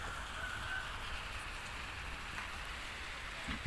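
Steady rain falling outdoors beside a kiln for charring fresh eucalyptus wood, a soft continuous patter with a faint bump near the end.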